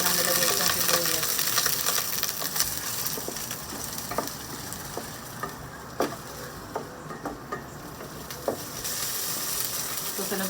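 Onions sizzling in a pan at the start of pork sinigang, a steady close frying hiss with scattered sharp crackles and light stirring clicks throughout, no voice heard.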